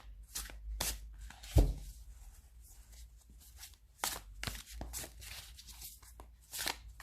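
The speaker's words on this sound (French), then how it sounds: "elles sont quand même faciles à mélanger." Tarot cards of standard size being shuffled by hand, giving a run of riffling, flicking bursts and soft card slaps that come and go irregularly, fairly close, with no talking.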